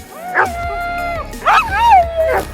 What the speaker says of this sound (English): if you even stop for a second, they whine and beg you to keep running